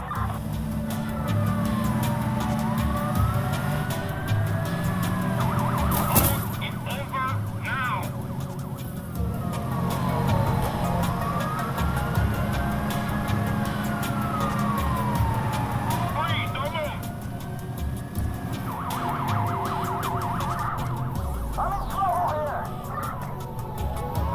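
Police patrol car siren in a video game, a rising and falling wail that repeats in slow cycles under game sounds and intermittent effects.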